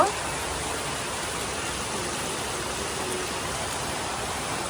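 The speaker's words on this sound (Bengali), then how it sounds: "অনেক বৃষ্টি অনেক বৃষ্টি হচ্ছে" Heavy rain falls in a dense, continuous hiss that stays even and loud throughout, with no other sounds standing out.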